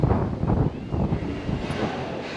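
Steady wind buffeting the microphone at the Grand Floridian resort, Walt Disney World, a loud continuous low rumble with gusty swells throughout and no talking.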